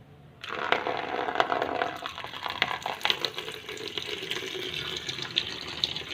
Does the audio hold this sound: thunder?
no